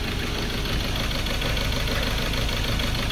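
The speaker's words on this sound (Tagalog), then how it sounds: "So gumagalaw talaga yung tubig. Isa po ito sa mga indikasyon na sobrang palyado talaga ang makina." A Ford Ranger 2.2 diesel engine idles rough and misfires, a loud, close, continuous clattering rumble with uneven knocking and no voices over it.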